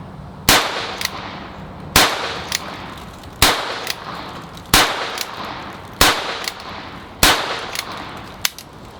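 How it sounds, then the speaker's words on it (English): Seven sharp shots from a Ruger Wrangler .22 single action revolver fired at a target, spaced about every 1.3 seconds in a steady rhythm, each a loud crack with a short ringing tail and faint echo. "I'm going to shoot for the bottom big target just pretty much as fast as I can shoot the single action."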